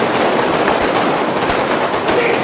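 Dense gunfire from a film shootout scene, a loud continuous barrage of overlapping shots with sharp cracks standing out, filling the whole stretch without talk.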